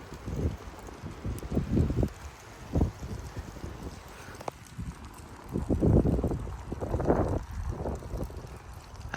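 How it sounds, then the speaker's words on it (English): Strong 40 mph gusts sweeping through a flexible live oak in Frisco, Texas, rushing and buffeting in uneven surges that swell and fade, with heavy wind rumble on the microphone. "Let's go over to that live oak again, because I heard it swishing loud."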